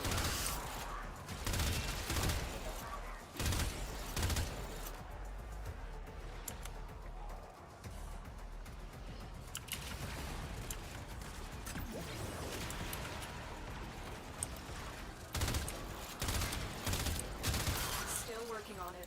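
Rapid bursts of gunfire from primary weapons in the video game Warframe, loud and dense with repeated volleys and impacts, mixed with game effects and occasional talk.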